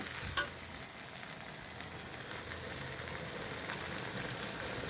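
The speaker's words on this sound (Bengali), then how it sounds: "এবার ভালো করে মশলাগুলোকে কষিয়ে নেব" Spices with dried red chillies fry and get stirred in a pan for an egg curry, a steady close sizzle with occasional scraping, no voices.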